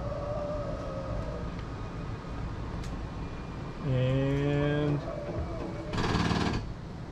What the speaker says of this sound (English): The dogs are in the bedroom, so I hear them howling.